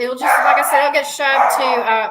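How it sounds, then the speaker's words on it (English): Dogs bark and yip in a home during a conversation, the barking bursts loud and close while people keep talking over them. "sorry about the dogs"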